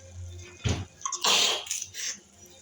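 Sneezing set off by fumes from chillies frying in oil for mango pickle: a sharp, close burst followed by coughing and breathy noise over faint sizzling.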